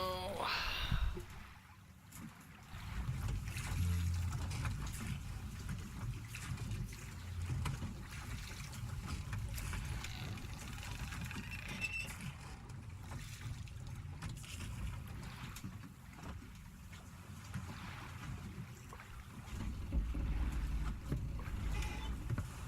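Boat gliding across water in the video game Silent Hill 2, a steady low wash of moving water and wind-like rumble running throughout, with occasional faint creaks and trickles.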